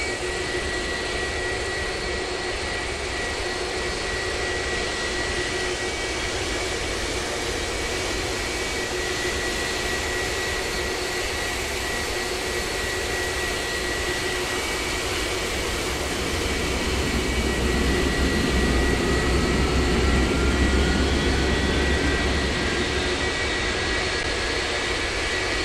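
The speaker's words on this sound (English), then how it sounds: "Start engine 1, flaps." A Boeing 757 jet engine spooling up in the flight simulator game Project Flight, a steady whining turbine drone with sustained tonal hum, growing deeper and louder in the low end partway through, heard alone without talk.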